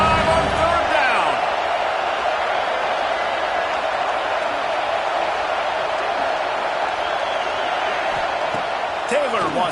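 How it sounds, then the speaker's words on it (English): A dense, roaring stadium crowd at an Ohio State Buckeyes football game keeps up a steady wall of cheering and noise on third down, loud and continuous throughout. "The Buckeye crowd alive on third down."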